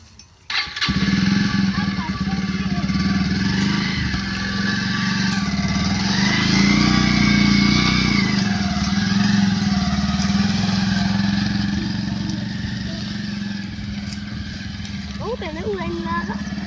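A heavy tractor-like vehicle engine runs steadily in a paddy field during rice harvesting, a loud continuous low rumble that swells in the middle, with voices talking over it.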